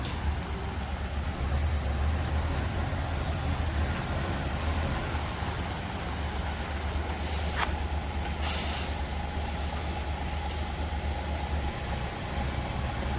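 A Scania S700 12-wheel low-bed race-team transporter truck is moved into a garage, its deep diesel idle rumbling steadily nearby with a couple of sharp hissing air-brake releases.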